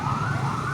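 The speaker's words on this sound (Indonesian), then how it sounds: "Mobil damkar datang." A fire truck siren wails continuously and loudly as the engine arrives at a burning office building, a steady electronic tone over low vehicle rumble.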